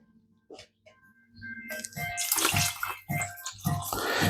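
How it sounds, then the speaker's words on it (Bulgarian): About two litres of water pour into flour for Neapolitan pizza dough, starting with a few drips and then a sustained, splashing stream that grows loud and pulses irregularly. "тука ќе додавам уште 3 кила вода"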